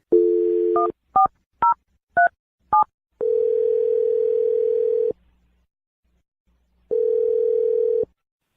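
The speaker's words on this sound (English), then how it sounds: "So dial the phone number right now." Telephone handset sound: a steady dial tone, then five short DTMF keypress beeps in quick succession, followed by long, even ringback tones separated by a pause, clear and close with no talking.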